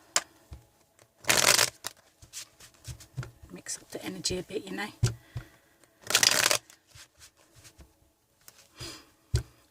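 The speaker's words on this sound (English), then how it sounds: "me just quickly shuffle this deck." A deck of tarot cards is shuffled in two short, loud riffling bursts, with softer card handling and a few taps in between, while someone speaks quietly over it.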